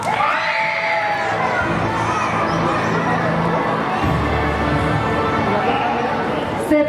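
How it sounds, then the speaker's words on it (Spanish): A school crowd of children cheers and shouts for the grade four winners at a closing ceremony, a loud, continuous wash of voices and whoops lasting several seconds. "Un especial aplauso para los ganadores del grado cuarto"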